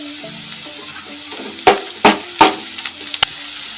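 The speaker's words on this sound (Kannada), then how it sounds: "ಈಗ ಕಟ್ ಮಾಡಿ ಇಟ್ಕೊಂಡಿರೋ ಹಸಿಮೆಣಸಿಕಾಯಿನ ಹಾಕ್ತಿದ್ದೀನಿ." Cut green chillies drop into hot oil with onions, giving a steady sizzle and frying crackle broken by several sharper bursts and spatters, close and fairly loud, with no talk.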